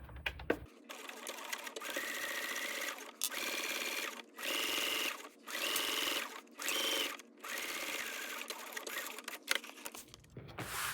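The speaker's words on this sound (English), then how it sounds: "We will be backstitching at the beginning and at the end using our shorter stitch length." Sewing machine backstitching the seam of a bucket bag, heard as several close bursts of fast, steady stitching separated by short pauses as the machine stops and reverses.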